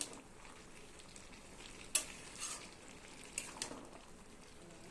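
Garam masala is stirred into a simmering jackfruit and prawn curry in a pan, giving a constant low sizzle and bubbling broken by a few sharp spoon scrapes and clinks.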